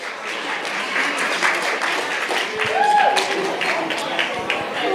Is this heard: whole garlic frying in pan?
no